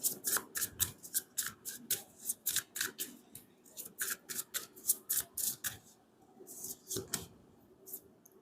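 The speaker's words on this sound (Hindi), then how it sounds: "ये दो कार्ड मैं नहीं लूंगी, शफल करके निकालूंगी।" Tarot cards are shuffled by hand in quick, crisp riffling bursts, close and fairly quiet, repeating steadily with brief pauses.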